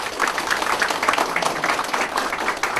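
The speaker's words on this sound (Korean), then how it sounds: "큰 박수로 축하해 주시기 바랍니다." An audience at a Korean newspaper's person-of-the-year award ceremony applauds, with dense, sustained clapping from a crowd continuing steadily throughout.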